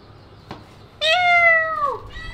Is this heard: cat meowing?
yes